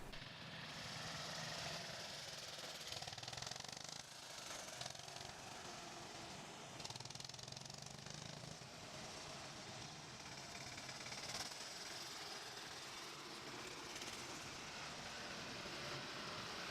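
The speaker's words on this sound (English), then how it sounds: "Deep, uneven engine notes roll across the field, punctuated by the slap of belts and the steady clatter of metal on metal" Old farm machinery engines run together outdoors at a working vintage equipment gathering, a continuous rough rumble with steady mechanical clatter and knocking throughout, fairly distant and uneven.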